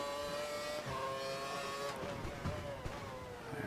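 An F1 car's high-pitched engine whines through gear changes on a qualifying lap at Silverstone in the F1 2012 video game, loud and continuous, with a voice talking over it.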